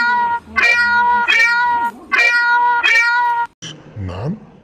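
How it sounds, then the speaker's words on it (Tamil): Toy cat from a children's animal toy set giving a series of electronic meows, about four loud repeated calls in close succession, then a brief different squeal at the end. "குட்டீஸ், நான் தான் பூனை பேசுறேன். நான் இப்படிதான் சத்தம் போடுவேன்."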